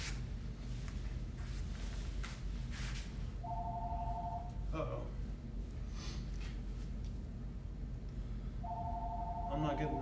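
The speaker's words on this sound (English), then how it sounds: "I don't know if you guys can hear that, but my phone's ringing." A mobile phone rings with two short bursts of a bright electronic tone, a few seconds apart, during a fitness class. The ringing is fairly faint against steady background noise and occasional thumps.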